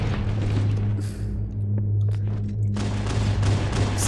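Rifle gunfire in the Halo Reach video game, a sustained, loud burst of shots over a steady low electronic hum, with no pause across the whole stretch.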